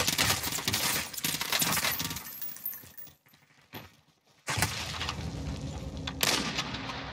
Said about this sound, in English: Right now I'm getting shot at